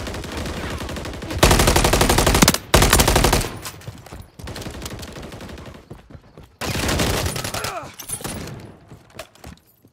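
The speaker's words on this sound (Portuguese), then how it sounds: "Atirando em mim." Multiplayer gunfire in Call of Duty: Modern Warfare 3 on an estate map: loud, dense automatic bursts rattle in clusters, broken by short gaps, then thin out into scattered shots.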